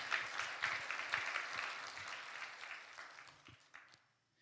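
A church congregation at a New Year revival service claps together to glorify God, a dense wash of applause that holds steady, then thins and fades out near the end.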